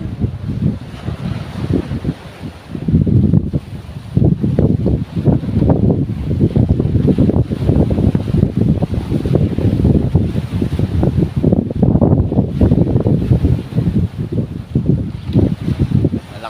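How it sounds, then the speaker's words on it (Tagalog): Strong wind buffets the microphone in a loud, continuous roar, with rushing sea waves churning underneath and no voices. "ang lakas ng hangin at alon dito."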